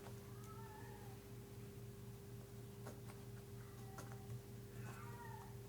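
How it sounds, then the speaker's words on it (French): A cat meowing outside by a doormat, faint and distant, several short meows over a steady background hum, no talking. "Il y a mon pote le chat qui pisse partout sur mon paillasson dehors, là, en train de miauler."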